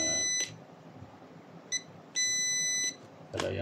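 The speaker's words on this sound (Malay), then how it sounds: "multimeter dalam mode buzzer" Multimeter in continuity mode sounding across a good thermal fuse from a fan: a short steady high-pitched buzzer tone, a brief blip, then a longer clear beep of just under a second, fairly close against a quiet room.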